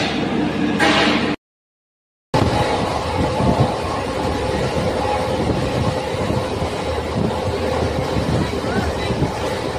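Steady rumbling roar inside a MEMU passenger train running between Bhusawal and Nashik, loud and continuous with rattling wheels, broken by a short dropout of silence.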